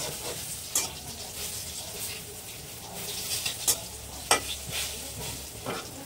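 Fish cooking in a pan, with a soft sizzle under repeated sharp clinks and scrapes of a utensil stirring, heard close by with no voices.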